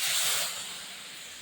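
A small splash of water hits a hot pan of mustard while bitter gourd is cooked, giving a loud burst of sizzling hiss that fades into a softer steady sizzle. No one talks.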